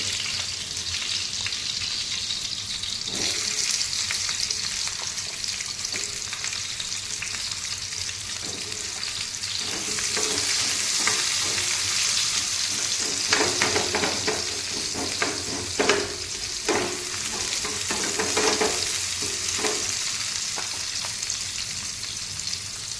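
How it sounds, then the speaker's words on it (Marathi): Finely chopped onion frying with paneer in a pan, a steady close sizzle heard alone throughout, with occasional stirring scrapes and taps. "मी आता हा कांदा बारीक करून घेतला आहे तर तो टाकून घेते"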